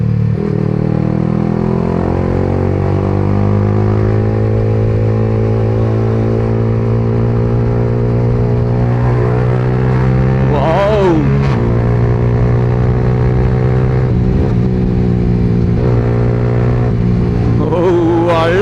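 A 2025 Yamaha R15M motorcycle engine drones loudly and steadily during a high-speed run, its pitch climbing and dropping through shifts around the middle and near the end, with wind rush underneath.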